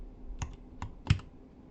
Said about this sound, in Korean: 쳐볼게요